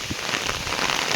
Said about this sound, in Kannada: ಮಳೆ ಮತ್ತೆ ಜೋರಾಗಿದೆ, ಹಾಗಾಗಿ ನನ್ನ ವಾಯ್ಸ್ ಕೇಳುತ್ತಲ್ವೋ ಗೊತ್ತಿಲ್ಲ